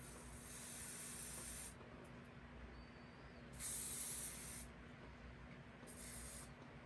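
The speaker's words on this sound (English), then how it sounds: "I'm just styling the beard and the mustache with some firm holding hairspray" Firm-hold hairspray from an aerosol can sprayed onto the beard and mustache of a plush gnome, three separate hissing bursts of about a second or two each, close and fairly loud, with quiet pauses between.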